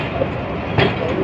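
Allama Iqbal Express pulling away from Kot Lakhpat station in Lahore, a steady low rumble of rolling rail cars with a brief louder clank near the end, murmuring voices in the background.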